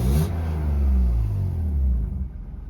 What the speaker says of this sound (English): I mean, I've been revving it up,